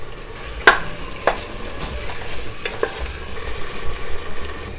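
Onions frying in oil and ghee for an Old Delhi style lamb stew, with a continuous crackling sizzle and a few sharp spoon knocks and stirs near the start, close up.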